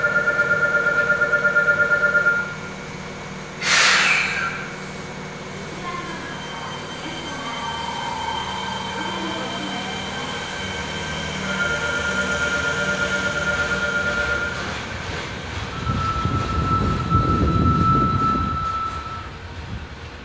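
A Fukuoka City Subway Airport Line train pulls away from a platform, a chime and announcement tones giving way to rising motor hum, wheel squeal and rumbling that fades off.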